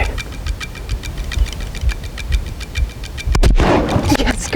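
A single loud rifle shot at a pronghorn rings out in open country near the end, a sharp broadband crack with a brief rumbling echo, after a stretch of steady wind and faint ticking.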